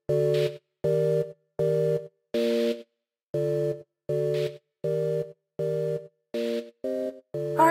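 A phone rings with an incoming call, sounding as a steady series of about a dozen short, evenly spaced electronic tone bursts, fairly close and clear, with nothing else heard.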